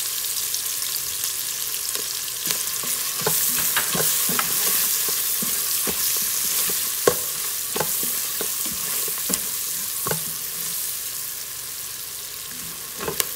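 Onions fry in a pan with salt and turmeric powder, giving a continuous bright sizzle punctuated by repeated scraping stirs and occasional clicks of a spoon against the pan, with no talking.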